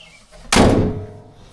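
The hood of a Jeep XJ swings shut with a single heavy metallic slam, close and loud, followed by a brief ringing decay.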